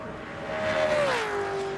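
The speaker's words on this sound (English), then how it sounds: "it's amazing just the difference in the sound of the engine here as they come past the start-finish line" Race cars at a 2004 EA Sports 500 qualifying session passing the start-finish line, a loud steady engine and exhaust note that drops sharply in pitch as a car goes by close, heard without talk.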